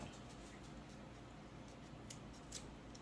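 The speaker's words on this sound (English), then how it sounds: "I'm just going to cut this down because it's a little easier to cut before you start gluing." Scissors snip through craft material for a Thanksgiving turkey wreath or door hanging, a few faint, crisp cuts over a steady low background hum.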